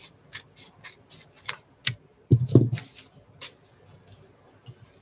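Scissors cut paper for a junk journal page in a series of quiet, separate snips, with a brief louder rustle of the paper partway through.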